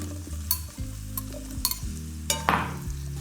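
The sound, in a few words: mushrooms frying and being stirred in bacon fat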